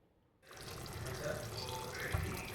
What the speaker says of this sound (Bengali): তাই অল্পই জল দিলাম।